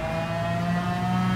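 Race car engine in Gran Turismo 7, one steady loud revving note with a strong harmonic whine held under acceleration, close and alone.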